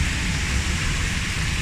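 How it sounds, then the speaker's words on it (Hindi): Heavy rain pouring down in Pakistan, a dense continuous broadband hiss and roar filling the whole stretch at steady loudness, with no voices. "I know you can see nothing but इतनी सख्त बारिश हो रही है।"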